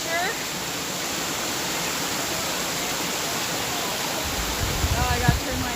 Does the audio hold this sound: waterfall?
yes